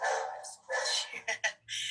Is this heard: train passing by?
no